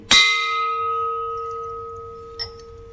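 A single sharp strike on an antique bronze bell-metal vessel rings out like a bell, its bright tone sustaining and slowly fading, with a faint second tap near the end.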